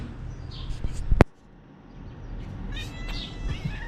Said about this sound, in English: Here's the barn cats.